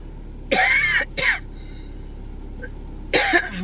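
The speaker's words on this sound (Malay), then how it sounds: "batuk." Three harsh coughs from one person indoors, two close together and a third a couple of seconds later, loud and near with quiet background between them and no talk.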